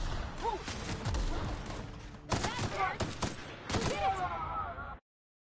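Bursts of gunfire in the video game The Outer Worlds, rapid volleys of shots and impacts in clusters separated by brief lulls, fairly close, with muffled voices mixed in before the sound cuts off abruptly.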